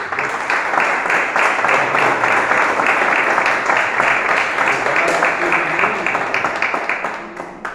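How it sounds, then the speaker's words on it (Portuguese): A church congregation gives a loud, sustained round of applause, with dense clapping from many hands at an even level that tapers slightly at the end, mixed with voices. "Vamos dar uma salva de palmas para Ele."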